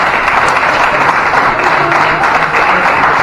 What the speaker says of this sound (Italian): continuate l'applauso per Massimiliano